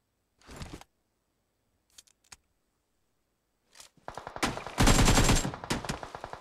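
Automatic gunfire in PUBG Mobile Dino Mode: a short burst, a few isolated sharp shots, then rapid sustained bursts that grow loud and dense near the end, close up, with no talking.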